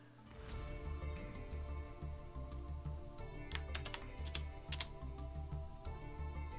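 A computer keyboard is typed on steadily at a soft, close level during a game stream, with a quick cluster of sharper key clicks partway through.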